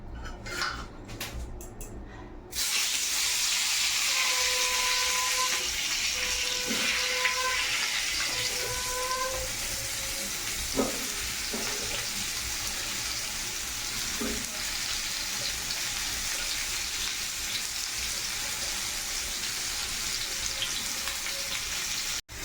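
Hot oil sizzles steadily and loudly as mango pieces are added after a brief clatter at the start, with occasional scraping and stirring clinks against a pan.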